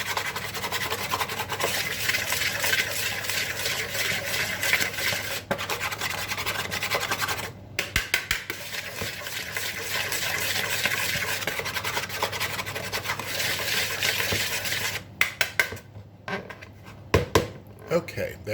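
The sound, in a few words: mixing cocoa powder and salt dry ingredients in a bowl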